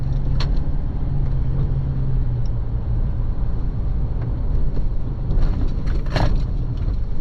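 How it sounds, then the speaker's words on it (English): A 2024 Isuzu D-Max X-Terrain ute drives over a jump, heard from inside as a steady low road and engine rumble with a few brief thumps and rattles from the suspension. "Okay, over the jump now,"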